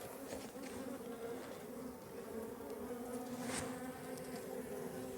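Faint, steady buzzing of many honeybees around a small nucleus beehive, with brief louder passes of individual bees close by.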